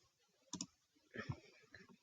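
Computer mouse clicks, a quick close pair of soft clicks, followed by faint rustling and a murmuring voice in a quiet room.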